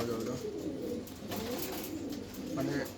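A pigeon at a pigeon farm coos softly while being handled, low and faint under steady background noise and rustling.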